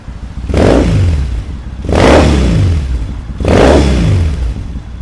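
A Triumph Thruxton 900 motorcycle engine is blipped three times, each rev rising sharply from a burbling idle and falling back, loud and close with no talk.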